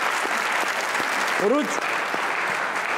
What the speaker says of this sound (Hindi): तालियां होनी चाहिए उरुज के लिए